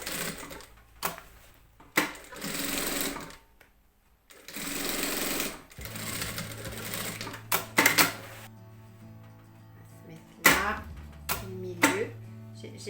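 A sewing machine stitching a fabric bag runs in several stop-start bursts of rapid mechanical whirring, separated by quiet pauses and faint handling noises, close and clear.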